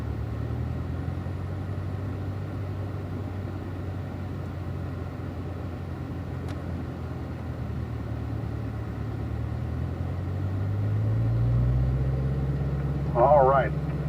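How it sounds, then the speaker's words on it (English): A car on a track pulls away slowly as the clutch is let up, its engine idling low and then rising in a smooth drone of deepening pitch, with a brief soft knock near the end. "Get that car to roll nice and easy, and then let the clutch up the rest of the way"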